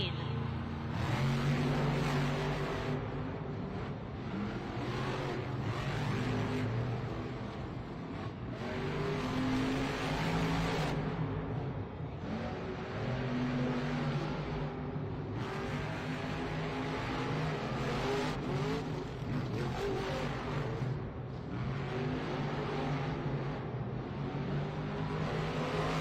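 Monster trucks roar loudly and continuously at a Monster Jam arena event in Minneapolis, engines revving hard through a drag-style race with crowd and announcer noise blended in.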